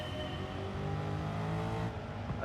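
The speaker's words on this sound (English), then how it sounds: "The car itself's a little loud." Dodge Demon engine in Gran Turismo, a loud, steady throaty drone at high revs holding on without a break, then easing slightly at the end.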